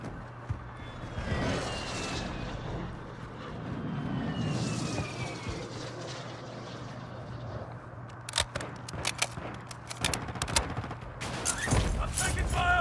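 Gunfire in Call of Duty Warzone on the Vondel Resurgence map: scattered sharp shots in the latter half, some near and loud, over steady ambient rumble and distant aircraft-like drones, with a voice talking intermittently.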